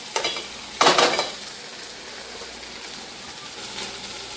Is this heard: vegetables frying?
yes